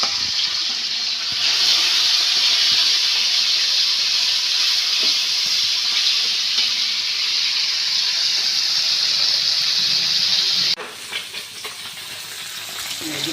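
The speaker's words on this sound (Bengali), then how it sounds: "এখন মাছ ভাজা হবে" Small fish frying in oil in a wok, a loud continuous hiss and crackle up close that drops away abruptly near the end, leaving quieter clatter.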